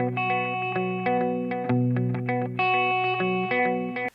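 An electric guitar plays a series of picked notes and chords through a delay effect, with repeating echoes trailing each attack, loud and clear with no voice.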